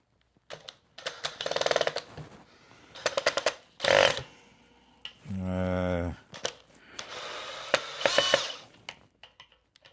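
A power drill runs in a short whir on the stripped screws of a dirty Made-in-Japan Memphis Stratocaster, rising to a steady tone around the middle, with clicks and handling noises of bench work on either side.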